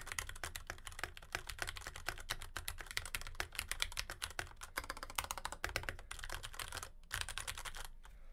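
Fast, steady typing on a computer keyboard clatters continuously for several seconds, picked up by a budget streaming microphone placed behind the keyboard, fairly quiet with no voices.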